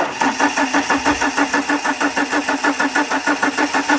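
Car engine with 19,560 miles turning over on the starter with the cam and crank sensors disconnected, a loud, even rhythmic churning of rapid cranking pulses that never catches and fires, close by, no talking.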